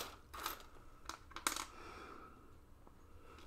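Pennies clink as they are dropped one at a time while being sorted by date, a few separate metallic taps in a quiet room.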